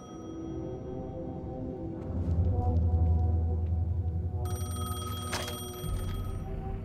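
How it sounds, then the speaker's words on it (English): A payphone rings in Alan Wake 2, a steady electronic trill over a low ambient drone, with a brighter burst of ringing late in the sequence. "payphone was ringing"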